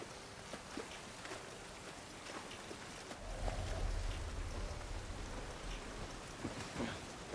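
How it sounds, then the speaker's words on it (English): Steady rain falls outdoors in The Last of Us Part I, a soft continuous hiss that thickens midway with a low rumble underneath, heard alone without voices. "This rain ain't gonna do us any good."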